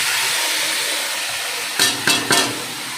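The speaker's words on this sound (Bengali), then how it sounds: "এবার আমি চিকেনটা এর মধ্যে ঢেলে দেবো" A steady sizzle of spice paste made with ground cumin, ginger, garlic and salt, then chicken tipped into the pan with three sharp, close bursts of sizzling and scraping, and no voices.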